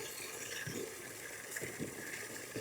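Water running from a washing machine supply line into a container, a faint continuous gushing flow with soft intermittent splashes.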